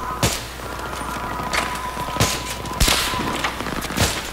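Gunfire in the Battlefield 3 campaign, sharp loud shots cracking at irregular intervals, roughly five or six across a few seconds, over a steady background hum of battle with no speech.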